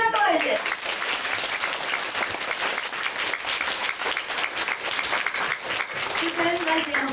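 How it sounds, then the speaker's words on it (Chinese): Sustained audience clapping at a 2009 Taiwanese mother-tongue contest award ceremony, a steady dense patter from the start, with brief speech near the beginning and end. "甲咱的选手掌声鼓励一下。"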